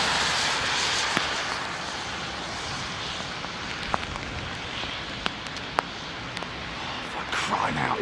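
A jet airliner roars steadily on approach to London Heathrow runway 27R, a broad sustained rush heard from outdoors with wind and light rain, plus a few sharp clicks.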